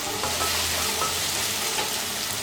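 Sliced onions with salt sautéing in a pan for a Tamil vendakkai puli kuzhambu, a steady close sizzle with soft stirring scrapes throughout and no voices.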